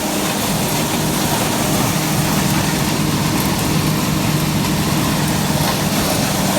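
An IH 1486 tractor powers a New Holland 354 grinder turning ear corn into cattle feed, giving a steady, loud, broadband mechanical roar with a low engine drone that holds constant throughout.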